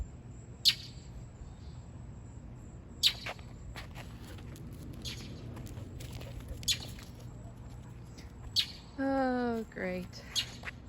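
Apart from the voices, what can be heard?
bird squawking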